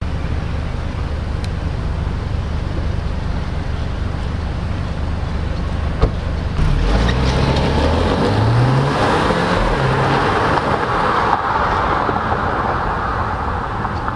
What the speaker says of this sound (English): So finally, driving this Alfa Romeo Giulia Sprint.